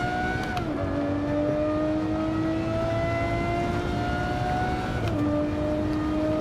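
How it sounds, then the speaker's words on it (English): A race car engine in a racing video game drones steadily at high revs for several seconds, its pitch dropping briefly as it shifts gears twice, with no talk over it. "As nice as this car sounds."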